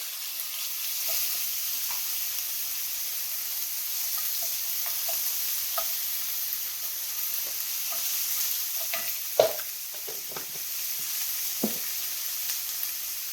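Garlic frying gently in a pan over a low flame, a steady soft sizzle with occasional light scrapes and clicks of a utensil stirring, close and continuous with no talking.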